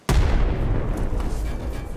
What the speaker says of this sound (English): I am going to throw a grenade